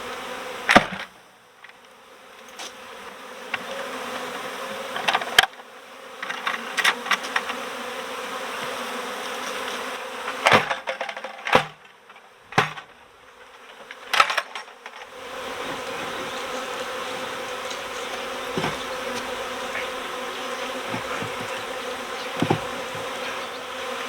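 A dense, steady buzz of many honeybees close by in an apartment storage ceiling and a vacuum box, with occasional louder passes as individual bees fly near.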